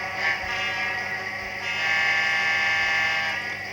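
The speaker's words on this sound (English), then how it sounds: "You've got a short horn." A short, steady electronic horn tone from a model train, sustained and buzzy over a constant hum, fairly close.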